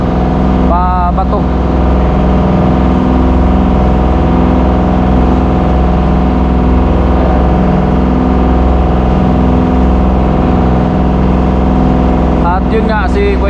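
A motorboat engine drones loudly and continuously during a ride in Camarines Sur. The steady roar is heard up close, with brief whistling tones near the start and end.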